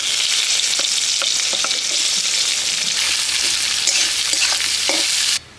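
Chopped onion frying in hot oil with whole cumin, bay leaf and a dried red chilli, a loud continuous sizzle with scattered spatula scrapes, cutting off abruptly at the end.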